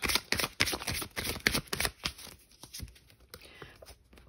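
Tarot cards are shuffled by hand up close in a quick run of crisp, flapping riffles, then the sound thins into softer, scattered card rustles.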